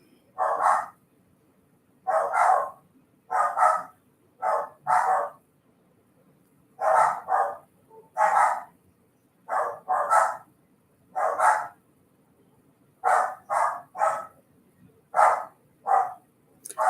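Several dogs bark in repeated bursts indoors, clear and fairly close, the sharp barks coming in irregular clusters across a long stretch with no one talking over them.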